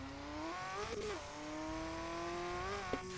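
Race car engine in the driving game RevHead, a steady droning whine that climbs in pitch, dips briefly around gear changes and climbs again, heard alone at moderate volume.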